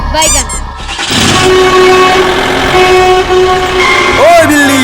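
A cartoon truck drives along in a Holi episode of a Chintu Chinki kids' cartoon, its loud engine rumbling as the horn sounds several times and voices talk over it.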